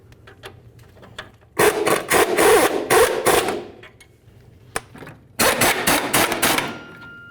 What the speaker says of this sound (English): Put the wrench on the bolt side here.